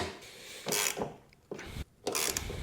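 The skids on each side of a snowblower are worked and tightened with a tool, producing bursts of metallic ratcheting and rubbing. The bursts come in uneven spurts with brief pauses between them, close by and moderately loud.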